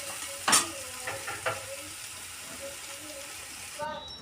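Eggplant stir-fried in hot oil with masala, a soft sizzle with a few sharp scrapes and clinks of a spatula against the pan, fairly faint and close, with no talk.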